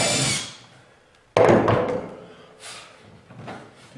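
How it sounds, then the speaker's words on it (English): A power drill with a 3/16 bit boring down through the rear hole of a dog blind during installation: a short whirring burst, a pause, then a sharper burst of drilling followed by a few fainter, briefer whirs. "We're going to take a 3/16 drill bit. We're going to drill down through the rear hole."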